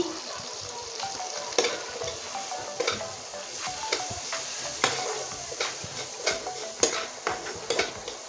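Spice masala with coriander powder and salt is sautéed for an egg and eggplant curry: a soft continuous sizzle nearby with repeated sharp clicks and scrapes of a spoon against the pan.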